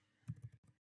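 A few quick, soft keystrokes click on a computer keyboard as code is typed, faint and close, in a short uneven burst.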